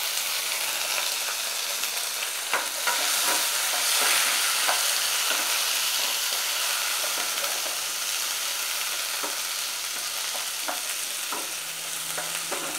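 Chopped onion, green chili, garlic and ginger frying in a pan, a dense continuous sizzle with occasional stirring scrapes and clinks, no voices.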